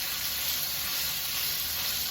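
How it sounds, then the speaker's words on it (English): Chicken pieces browning in a skillet for a one-pan chicken and rice dish give off a loud, steady sizzle that continues unbroken throughout, with no one speaking. "Now I'm letting this here fry on up. So now it's frying up."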